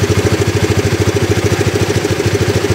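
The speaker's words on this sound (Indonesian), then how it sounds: "Tapi soal mesin ya bisa didengarkan sendiri" A Honda CBR or Yamaha R15 sport motorcycle engine runs steadily close by, its rapid, even putter pulsing without a break and no voices over it.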